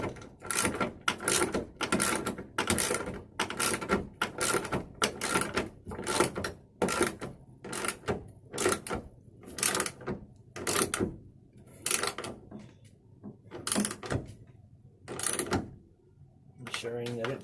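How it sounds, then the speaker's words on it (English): Wrench tightening the bolts of a tailgate assist on a 2004–2012 Chevrolet Colorado/GMC Canyon, using 13mm and 16mm sizes: a rapid series of close ratcheting clicks in short bursts with brief gaps between them. "Using the 13mm on the back and the 16mm on the inside, tighten that up."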